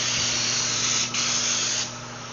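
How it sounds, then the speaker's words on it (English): A paint spray gun sprays car door skins for a 1973 Dodge Challenger, a steady close broadband hiss running continuously with a brief dip partway through and softening near the end, alongside a low compressor hum. "put it right into the sprayer and spray it"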